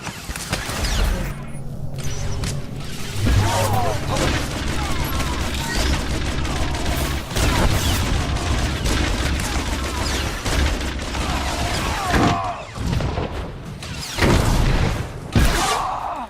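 Sci-fi blaster fire rattles through a Star Wars: The Old Republic combat scene, with dense repeated volleys, heavy booms and crashes. The barrage is loud and nearly continuous, with only brief lulls.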